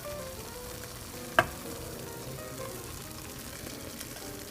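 Ube halaya cooking in a pan with condensed milk, giving a faint, continuous soft sizzle with one sharp scrape of the spoon early on, then quiet stirring throughout.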